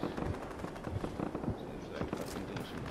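Gunfire crackles in Fortnite, a scatter of sharp shots and short bursts near and far, with a voice talking over the shooting.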